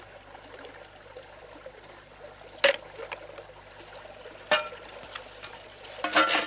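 Water trickles faintly through a small stream dammed with earth and stones, a soft continuous burble broken by a few brief louder splashes and knocks.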